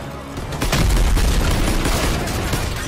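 In Call of Duty: World War II, an MG-42 machine gun fires a loud, close, fast stream of rounds. It starts abruptly after a brief quiet lead-in and keeps up a dense, rattling burst for about two seconds.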